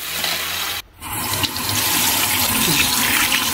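Tap water runs steadily into a kitchen sink while ingredients for Romanian sarmale are rinsed, with a brief break in the flow before it resumes, close and fairly loud.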